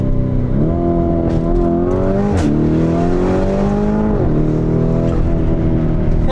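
A turbocharged sports car accelerating hard on a race circuit in Italy: a loud, close engine note climbs steadily and drops briefly at each gear change before rising again.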